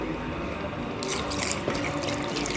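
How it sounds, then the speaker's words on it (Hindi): Milk poured into roasted sago in a pan for kheer, heard as a steady close-up liquid stream that grows splashier partway through and continues alone without talk. "हम अब इसमें दूध डालेंगे"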